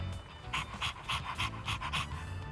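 A dog panting in the video game Persona 3 Reload: quick, steady rhythmic breaths, close and fairly soft, continuing alone for a couple of seconds.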